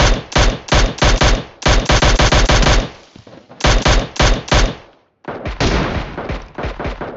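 Automatic gunfire in the PUBG video game comes in rapid bursts of loud, close shots with brief gaps and a short pause before a final sustained burst.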